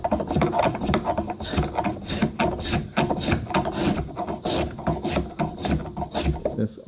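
A flat file rasps across wood clamped in a vise while a wooden tanto is being shaped. Close, loud strokes come in a steady back-and-forth rhythm throughout.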